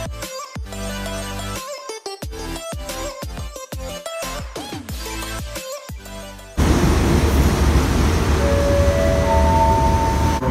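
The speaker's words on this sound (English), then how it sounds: "Okay, so dito kami sa train station." Busy train station ambience in Thailand: a dense, steady wash of crowd and machinery noise with a few sustained tones, taking over loudly after several seconds of music. No talk is heard.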